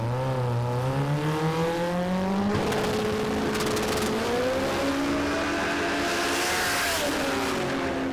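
A Honda-powered four-cylinder Toyota Celica drag car launches down the strip at Warwick Dragway, its engine screaming at high RPM with rising, stepping gear changes that carry on loud and continuous.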